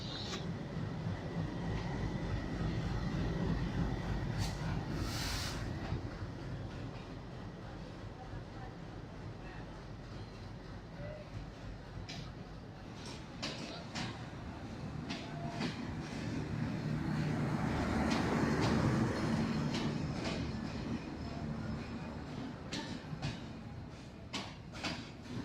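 The Kapotaksha Express pulls out of a station toward Rajshahi, a continuous rumble of rolling carriages with scattered metallic clanks and a swelling roar, while people talk nearby.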